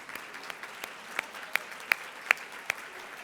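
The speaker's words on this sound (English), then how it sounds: "Can I get all of you to stand for a second, and so we can applaud you?" Light, scattered applause from a luncheon audience of diplomats and officials standing to be recognized, a handful of sharper individual claps standing out over a soft, steady patter.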